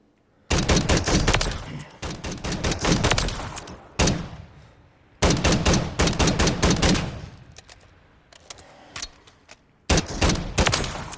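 Bursts of rapid automatic gunfire from a Call of Duty: Modern Warfare III weapon fitted with a Chimera grip, several loud sustained volleys separated by brief pauses and single shots, with no talking.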